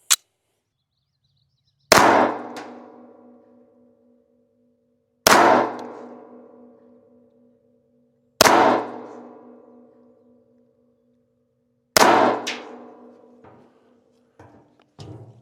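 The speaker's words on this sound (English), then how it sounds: "All right, we did 4 shots." Four loud, sharp gunshots from a Daniel Defense H9 pistol firing 115 grain full metal jacket rounds, evenly spaced a few seconds apart, each with a ringing decay, followed by faint handling clicks.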